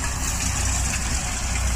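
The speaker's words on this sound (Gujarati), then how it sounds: "જો બહુ સરસ કાપણી થાય છે ટ્રેક્ટર દ્વારા" A tractor engine runs during a wheat harvest, giving a steady, low, throbbing rumble at moderate volume with no break.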